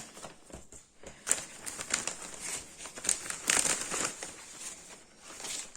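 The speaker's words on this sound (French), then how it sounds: "Je prends une chute de papier." A scrap of paper picked up and handled at a crafting table beside a hole punch, giving soft crinkling and rustling with a few sharper crackles, close and fairly quiet, with no talk.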